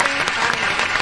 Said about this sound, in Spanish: Le recibimos aquí con fortísimos aplausos en Fe Actualidad en su casa.